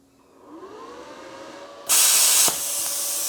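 An air compressor feeding a plasma cutter hums faintly, then a loud burst of hissing air cuts in suddenly, sharpens briefly and settles into a steady close hiss.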